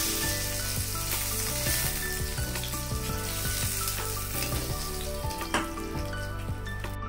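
Fish frying in hot oil in a pan gives a steady, close sizzle throughout, with a few faint clinks from turning the pieces of hilsa.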